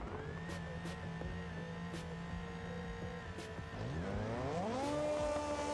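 Several drift cars rev their engines together at the Long Beach start line in a BeamNG multiplayer drifting event, a steady layered drone that swells and climbs in pitch toward the end.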